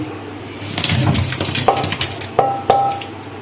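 Boiled taro leaves are tipped from a pot into a basket, giving a wet splashing pour with water rushing through, then a few sharp knocks of the pot against the basket.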